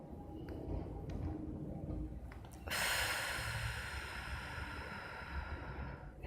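A long, loud inhalation during a timed breathing exercise swells suddenly after a quiet stretch and holds as a steady airy rush, close to the microphone, with no talking.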